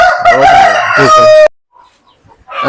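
An Aseel rooster crows loudly and close by, one long strained call, then a short silence before another crow begins.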